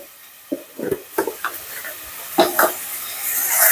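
Turmeric powder and spices sizzle in a frying pan while being stirred, with scattered scraping and clattering knocks over a soft steady hiss that swells toward the end, close and fairly loud.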